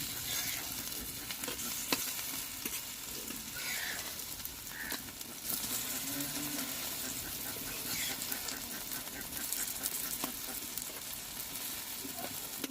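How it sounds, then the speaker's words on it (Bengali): Drumstick and poppy seed fritters sizzle in hot oil, a steady crackling hiss punctuated by occasional sharp clinks and pops. "বন্ধুরা যারা সজনে তো বড়াগুলোকে আর একবার উল্টে দেবো"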